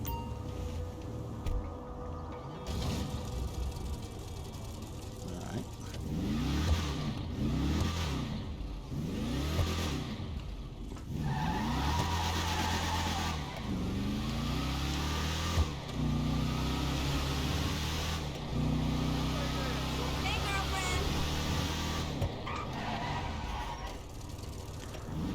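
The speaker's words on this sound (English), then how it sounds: "that's how the motor sounds before the mod" Gauntlet Hellfire muscle car engine in GTA5 with its stock pre-mod sound, revving repeatedly in rising and falling surges, close and loud throughout with no talking.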